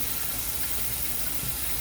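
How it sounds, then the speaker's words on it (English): Cold tap water runs steadily from a faucet over cooked broccoli in a kitchen sink, a continuous broadband splashing rush with no talk. "What I'm going to do now is run cold water on it to stop any cooking."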